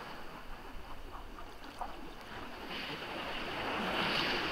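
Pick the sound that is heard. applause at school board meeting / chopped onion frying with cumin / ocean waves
ocean waves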